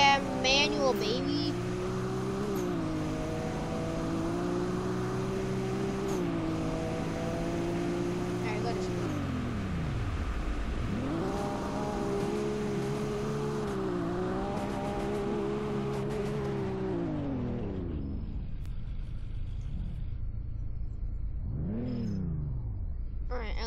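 A Nissan Skyline R34 turbo engine in a driving video game, revving up and down through repeated gear changes with a whining, droning tone, dropping to low idle twice and rising again.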